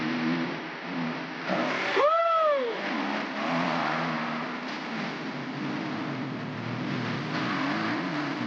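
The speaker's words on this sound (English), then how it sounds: "So here's the first footage of defending 450 class champion Chase Sexton back on the bike." A 450-class motocross bike engine drones steadily while being ridden, with a brief rising and falling pitch sweep early on before settling back into an even, moderately loud hum.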